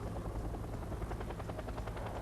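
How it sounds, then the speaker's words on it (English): Helicopter rotor sound from the Wargames AirLand Battle video game: a steady, rapid thudding chop that continues evenly throughout, with no voices. "he has things up here that's shooting down my helicopters"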